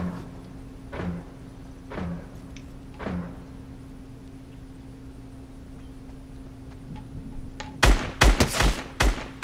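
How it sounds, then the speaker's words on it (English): Gunfire from players shooting each other in Fortnite, starting with a few spaced distant shots about a second apart, then a burst of loud, close rapid shots near the end over a steady background hum. "They're fighting. They're shooting at each other."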